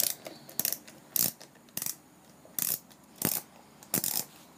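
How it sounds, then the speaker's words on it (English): A screw is worked loose from the air filter cover of a Briggs & Stratton engine with a ratcheting tool, quiet close clicks coming in short bursts about every second. "First, I want to take off this screw. It's holding on the air filter cover."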